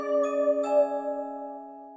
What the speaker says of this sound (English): So this one-shot right here is the Lovebirds synth from Sequizzy Cassiopeia one-shot kit.